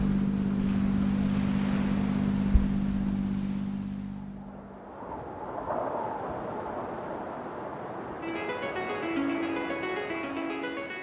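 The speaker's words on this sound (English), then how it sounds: "We've got the main up, close hauled, engine on to give it a bit of a run out." A sailing boat motoring close-hauled under mainsail off Antigua, its engine droning steadily beneath rushing water and wind, then fading as splashing waves and a brighter, higher tone take over.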